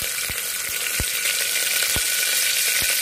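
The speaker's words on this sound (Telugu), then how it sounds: "ఇందులోనే కొద్దిగా కొత్తిమీర కరివేపాకు వేసుకుందాం ముందుగా" Coriander and curry leaves sizzle in hot oil in a pressure cooker for goat head soup, a steady hiss with a few sharp low knocks spaced through it.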